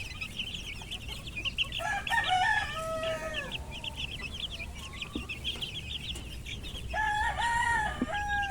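Boston Roundhead chickens and chicks forage on a grassy range, with repeated crowing calls rising over steady clucking and soft peeping from the flock nearby.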